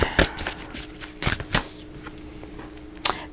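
Soul's Journey Oracle cards shuffled by hand, with a few quick riffles and soft papery flicks close by, separated by short pauses.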